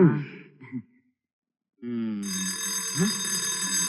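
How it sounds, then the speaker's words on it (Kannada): A continuous electric school bell rings loudly and steadily for a couple of seconds in a classroom, with voices and murmuring underneath. "bell ಹೊಡಿತು bell ಹೊಡಿತು"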